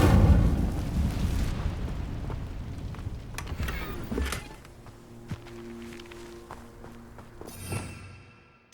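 Incendio fire spell cast in Hogwarts Legacy, a rumbling burst of flame at the start that fades into crackling and scattered clinks, followed by quieter ambient tones and a final whoosh.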